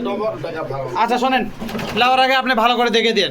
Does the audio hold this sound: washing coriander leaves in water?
no